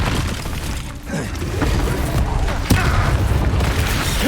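The Incendio fire spell cast mid-combat in Hogwarts Legacy, a loud, dense roar of flame and impacts that carries on throughout with sharp cracks, over a busy game soundscape.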